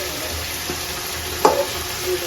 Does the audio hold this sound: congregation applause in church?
no